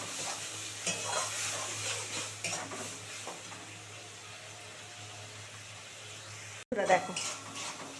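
A paste of black mustard and green chilli fries in a pan, giving a low continuous sizzle with quiet stirring scrapes and a sharper clatter near the end, heard up close.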